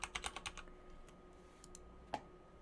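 A quick run of keystrokes on a computer keyboard as a username and password are typed into a login form, several fast close clicks followed by a few sparse taps and one firmer final key press, quiet and alone.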